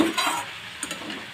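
Tomato and vegetables frying in a pan for a village-style onion and snail dish, with a soft sizzle and a few scraping stirs of a utensil near the start.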